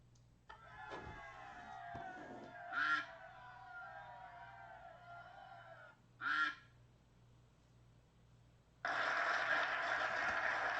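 Ducks at a poultry show honk and quack in loud separate bursts over a low indoor hum, two short calls apart followed by a longer, harsher stretch of noise at the end.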